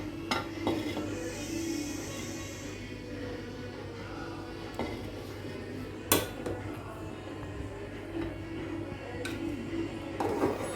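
Dum-cooked spicy Mexican fajita rice being served out of a pot, with scattered metal spoon scrapes and clinks against the pot and dishes over a steady low kitchen hum, including one sharper clank near the middle.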